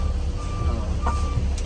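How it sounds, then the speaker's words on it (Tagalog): A bus reversing on a road, its steady electronic reversing beeps repeating clearly over a loud engine rumble. "nag-atras na ating driver para babalik tayo sa ating sa daan"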